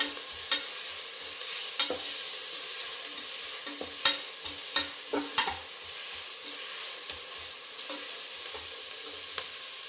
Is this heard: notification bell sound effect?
no